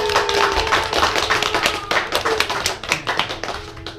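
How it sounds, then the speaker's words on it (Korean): Guests at a child's first birthday party clap together, a close, fairly loud burst of individual hand claps with a ragged rhythm that thins out toward the end. "건강하게 자라라고 박수 한번 부탁드릴게요"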